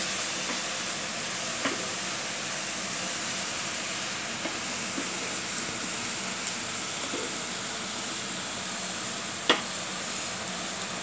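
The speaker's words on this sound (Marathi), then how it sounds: "मसाला मस्तपैकी भाजून घ्यायचा आहे तेलामध्ये." Masala spices roasting in hot oil for prawn masala, a steady close sizzle and hiss running throughout with a few faint stirring clicks and one sharp tap near the end.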